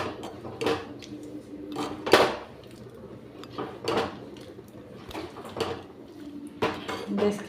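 A metal ladle mixes salt and turmeric into boiled dal in a pot, giving sharp clanks and scrapes against the pot at irregular intervals, close and fairly quiet.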